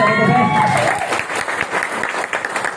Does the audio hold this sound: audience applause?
yes